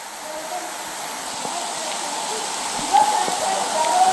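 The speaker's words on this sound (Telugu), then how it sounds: "ఎటు చూసినా కూడా పైనుంచి కూడా ఉధృతంగా పడుతున్నాయి నీళ్లు." Tumbura Theertham waterfall pours heavily in the rain, a steady broad rushing wash of water that swells slightly toward the end.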